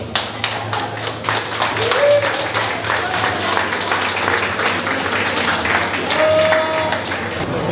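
An audience at an exhibition opening applauds to thank the exhibiting authors, a sustained wash of many hands clapping that carries on for several seconds, with a few voices heard faintly underneath.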